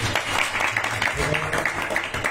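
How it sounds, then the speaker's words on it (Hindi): Scattered hand clapping from a small group gathered in a home for an Ekadashi kirtan program, dense and steady through the moment with voices and background sound mixed underneath. "इनके लिए ताली बजाओ घर में"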